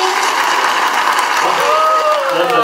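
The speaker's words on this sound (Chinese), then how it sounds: "我们再次掌声" Audience applause at a Taiwanese reunion gathering following a stage performance, a steady dense wash of clapping with crowd noise and faint voices over it.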